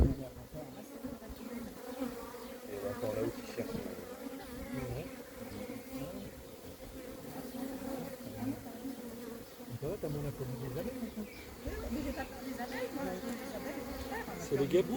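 A honeybee swarm being recovered outdoors drones in a steady, dense buzz that stays at a moderate level throughout, with faint background sounds mixed in.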